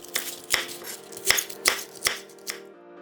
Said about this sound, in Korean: 양배추 200g은 한입 크기로 썰어주고